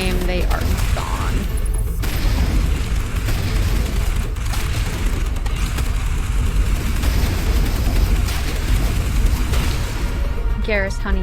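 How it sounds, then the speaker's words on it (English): Mass Effect gunfire as Garrus shoots, a dense continuous rattle of shots and mechanical clatter over booming game noise, loud throughout, with talking heard at moments. "Garrus, honey, you're shooting the floor."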